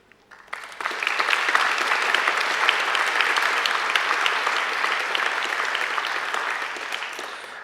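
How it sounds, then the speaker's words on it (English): Audience applause at a university graduation ceremony in an outdoor courtyard, a sustained, dense wash of clapping that swells quickly after a brief start and holds steady, easing slightly toward the end. "I think they deserve a round of applause too"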